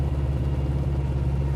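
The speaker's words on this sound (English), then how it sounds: "We have an 1800cc engine. Puts out about 138 horsepower." Steady, close idle of a 1971 Alpine A110 Group 4 race car with an 1800cc four-cylinder engine producing about 138 horsepower, a continuous low rumble with no speech.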